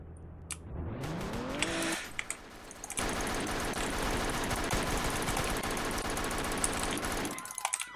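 Rapid bursts of automatic gunfire in the Roblox game Liberty County, dense and continuous for several seconds after a mechanical whir, then cutting off abruptly near the end.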